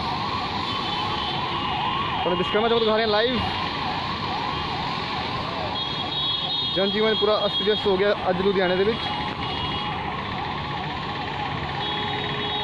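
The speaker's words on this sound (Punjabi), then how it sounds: "ਇੱਕ ਟ੍ਰੈਫਿਕ ਫਸੀ ਐਂਬੂਲੈਂਸ ਜੋ ਕਿ ਰੋਂਗ ਸਾਈਡ ਜਾ ਰਹੀ ਹੈ" Ambulance sirens wail repeatedly from vehicles stuck in traffic at Vishkarma Chowk on rain-flooded Ludhiana streets, rising loudly in two bursts over steady traffic noise while someone talks throughout.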